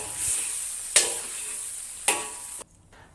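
Beef pepper steak sizzling and frying in a wok for Chinese pepper steak, a steady close hiss broken by two sharp stirring scrapes before the sizzle cuts off near the end.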